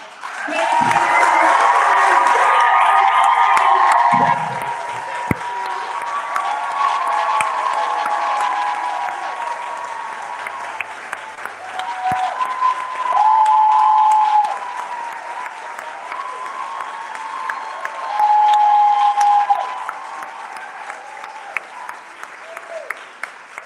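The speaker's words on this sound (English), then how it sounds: "I want you all to start clapping" A large live audience at an indoor event applauds loudly, with cheers and whoops on top, then the clapping thins to scattered claps and swells again in several bursts.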